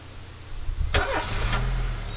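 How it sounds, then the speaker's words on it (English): A car engine in a police video game cranks and catches with a sudden loud burst, then settles into a steady, close idle rumble after a moment of near silence. "Start that car"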